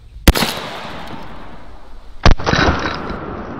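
Zeus 12 gauge shotgun firing a Texoma Precision pellet wad: two sharp, loud close blasts about two seconds apart, each followed by a brief rumbling decay.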